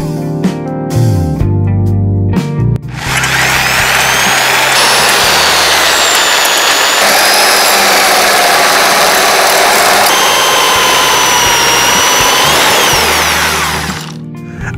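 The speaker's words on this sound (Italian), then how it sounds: "Ora cambio la punta e metterò quella dal diametro di 8 mm," A power drill fitted with an 8 mm cobalt bit bores into a broken lock, whining loudly and continuously for about eleven seconds after a few short clattering starts, then winding down.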